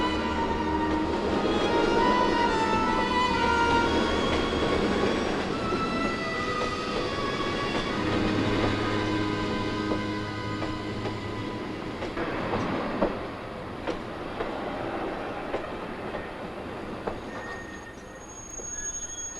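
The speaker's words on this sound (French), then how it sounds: "Le train 2016 à destination de Paris-Nord va partir." A passenger train stands at a station platform before departing for Paris-Nord, with a steady rumble, squealing wheel tones and metallic clatter, heard close and continuous for about twenty seconds with no talk.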